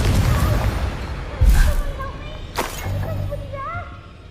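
A Confringo explosion spell from Hogwarts Legacy bursts with a sharp boom amid game effects and a short musical flourish, loud and close, with spoken spell incantations around it.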